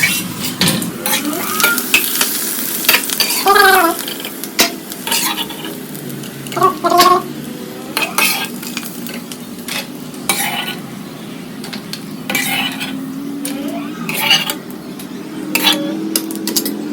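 Food fries and sizzles in a pan on a home kitchen stove while a utensil stirs and scrapes against the metal, with clinking and a steady loud hiss throughout.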